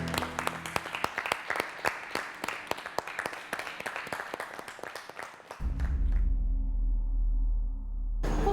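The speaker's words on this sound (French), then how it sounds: "Et on vous applaudit." Contestants and audience on a cooking challenge show clap in a short, lively round of applause that stops abruptly, followed by a steady low hum.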